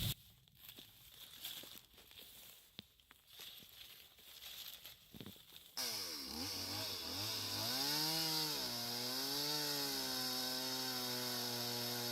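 A chainsaw cuts through a log roughly 24 feet along its length while building a small log cabin. Scattered rough cutting noise gives way to a loud, steady engine whine that rises and falls as it revs.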